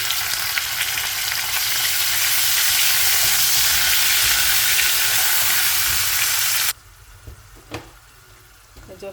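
Onion frying in hot oil until reddish, for a prawn and mushroom dish: a loud, dense, close sizzle that cuts off abruptly near the end, leaving a few quiet clinks and stirring sounds.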